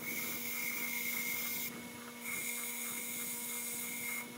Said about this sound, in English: I went over to the grinder and I ground this particular screwdriver blade parallel